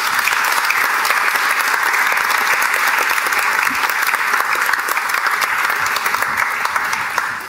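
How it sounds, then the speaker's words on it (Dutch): Audience applause at a political talk event fills the room, loud, dense and steady throughout with no talk over it. "U mag zo direct nog een applaus geven"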